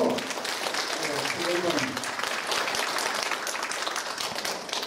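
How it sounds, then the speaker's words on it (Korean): An audience applauds at a forum opening ceremony after a keynote speech, steady dense clapping that fills the room, with a speaker's voice briefly audible over it at the start. "다시 한번 큰 박수로"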